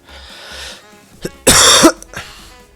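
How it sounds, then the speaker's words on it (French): A single loud, harsh cough close to the microphone, preceded by a quieter throaty sound and followed by brief silence. "j'ai toussé bien dans le micro, bien fort à mon avis"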